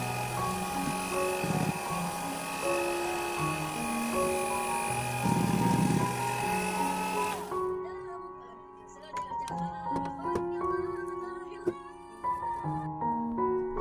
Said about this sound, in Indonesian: Kemudian nyalakan kembali mixernya, gunakan speed paling rendah.